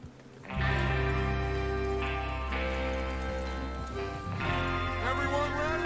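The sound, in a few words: horses galloping in Red Dead Redemption 2 video game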